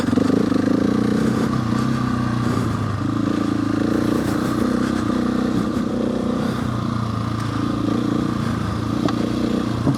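A motorcycle rides along dirt tracks with a loud, steady engine drone and continuous rattling and scraping from the terrain and the bike.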